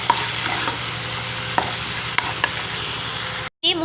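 A masala paste of ginger, garlic and tomato fries in oil with browned onion, producing a steady, close sizzle with a few light clicks of stirring. It stops briefly near the end and then resumes.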